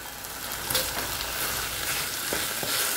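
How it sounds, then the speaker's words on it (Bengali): Boiled potatoes drop into a frying spice masala that keeps up a steady, close sizzle with faint stirring scrapes and no voices. "এখানে আলুগুলো দিয়ে দিলাম।"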